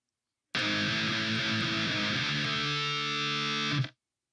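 Distorted electric guitar riff in drop D tuning, a few seconds of heavy palm-muted chugging that settles into a held, ringing power chord before cutting off, played alone.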